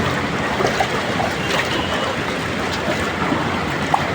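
Strong waves during Typhoon Carina churning against a boat, a dense, unbroken wash of rough water and spray filling the scene, with a few small knocks near the end.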